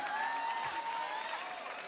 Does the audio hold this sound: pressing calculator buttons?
no